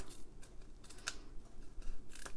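Scissors trimming paper stripes, a few faint, crisp snips and clicks scattered over a couple of seconds, close up and quiet, with no talking.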